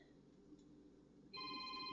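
A telephone starts ringing partway through, a steady electronic tone that cuts in abruptly over a low room hum and keeps sounding to the end.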